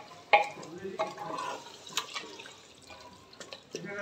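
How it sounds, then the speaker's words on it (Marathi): A bowl of water is poured onto vajri (goat tripe) frying in a pan, giving soft splashing and dribbling sounds with a few sharper knocks, fairly quiet and close. "मध्ये 1 वाटी पाणी टाकते."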